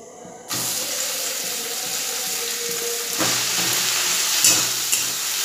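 Onions dropped into hot oil with tempering spices, a sudden loud sizzle that keeps frying steadily, swelling as stirring adds a few scraping clicks.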